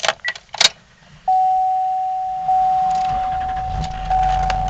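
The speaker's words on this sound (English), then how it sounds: "when you get behind the wheel and you strike the key" A Duramax diesel Cadillac Escalade ESV starts with a key: faint key clicks and jingles, then a steady ignition chime tone, and finally a low diesel engine rumble building at the end, with no talking.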